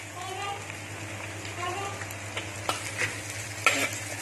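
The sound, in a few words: onions frying and stirred for Punjabi chilli chicken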